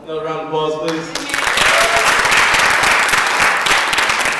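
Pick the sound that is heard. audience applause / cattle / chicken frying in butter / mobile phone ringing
audience applause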